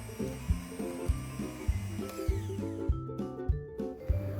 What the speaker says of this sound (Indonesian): Kemudian kocok dengan kecepatan rendah sekitar 1 menit.